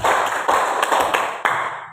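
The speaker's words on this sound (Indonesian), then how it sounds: "tepuk tangan untuk Irsan." Applause in a grade 9 classroom for a student, a brief burst of close, sharp hand claps filling the short room with a few louder individual claps standing out.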